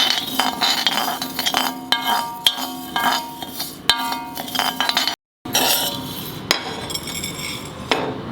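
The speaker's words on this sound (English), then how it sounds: "Keep on stirring it." A metal spoon stirs rice grains dry-roasting in a pan for a Mangalorean fish curry masala, with steady clinking and scraping against the pan, loud and close, and one brief silent gap.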